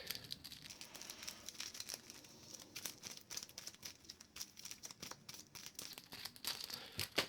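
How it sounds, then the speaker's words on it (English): Arkham Horror card game cards from the discard pile being shuffled and tossed around on a tabletop, a steady crinkly riffle of papery flicks and snaps running close and alone for several seconds. "We've got to shuffle the discard pile into the encounter deck."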